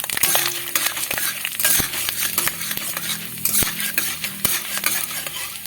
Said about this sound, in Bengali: ছোলার ডাল নিয়েছি তিন চামচের মতন ডালটাকে এই তেলে দিয়ে ভেজে নেব